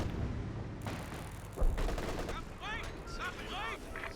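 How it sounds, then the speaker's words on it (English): Company of Heroes 2 artillery concentration barrage, several heavy booming impacts and bursts of gunfire in the game mix, with a commentator talking over the explosions. "Another concentration barrage coming in."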